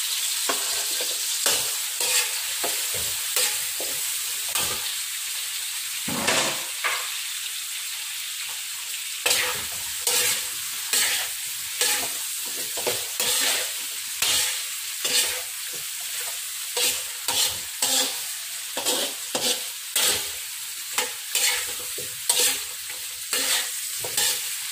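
Taro being sautéed in a pan for a beef and pork dish with chorizo de Bilbao, a continuous sizzle cut by many quick rhythmic scrapes and clacks of a spatula stirring, close up with no talking.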